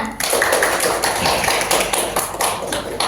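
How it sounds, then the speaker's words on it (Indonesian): Classroom applause for a student named Dayana during a microteaching lesson, a steady patter of many hands clapping together for about three seconds, fairly close and dense. "Tepuk tangan Dayana"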